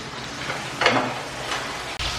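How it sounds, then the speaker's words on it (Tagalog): Lapu-lapu grouper fish frying in hot oil for sweet and sour, a steady close sizzle with a brief stir or spatter and a sudden shift near the end, no talking. "nagpiprito ng lapu-lapu para sa sweet and sour"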